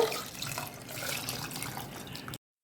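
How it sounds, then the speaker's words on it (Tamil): Water pours in a steady stream into a pressure cooker holding lentils and potatoes for a couple of seconds, splashing softly, then cuts off abruptly. "பருப்பும் உருளைக்கிழங்கும் மூழ்கிற அளவுக்கு தண்ணி ஊற்றிக்கலாங்க."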